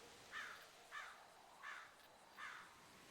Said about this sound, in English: The extraordinarily loud crow.